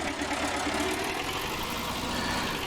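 Steady, loud drone of a tractor engine idling on a farm in Somerset, continuous and unchanging with a rough low-mid rumble and no talking.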